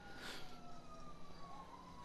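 An emergency vehicle siren in GTA V Online, a gliding wail that sounds faint and distant, steady for the full two seconds over a quiet background rumble.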